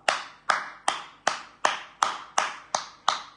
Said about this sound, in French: Applaudissez, j'ai camarades d'Afrique